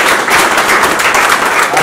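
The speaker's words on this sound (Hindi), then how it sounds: "एक बार जोरदार तालियां बजाइए।" An audience at a New Delhi literature festival in Hindi Bhavan claps loudly and continuously, a dense, even roar of applause filling the room without a break.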